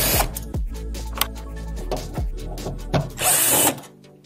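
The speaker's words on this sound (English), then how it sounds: "First, I'll remove all the screws here, and then so we can remove the top plate." A power drill backs screws out of the top plate of a ROEQ TMS-C300 Ext robot cart, with short whirring bursts separated by pauses and clicks, fairly close and loud.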